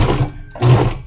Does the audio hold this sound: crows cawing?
no